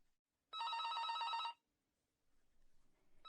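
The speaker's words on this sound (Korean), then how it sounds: "대우그룹의 자금 담당 임원의 방으로 한 통의 전화가 걸려왔다" An old-style telephone bell rings once for about a second in a dramatized documentary office scene, a clear isolated ring followed by quiet room tone before a voice begins.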